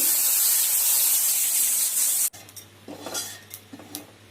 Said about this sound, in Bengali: তো মাছটা ভেজে নিচ্ছি